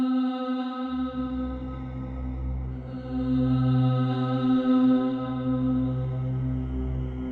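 A free Decent Sampler choir vocal drone plugin sustains a steady, layered chord of voices that sounds alone, with a deep low tone entering after the first second and swelling gently.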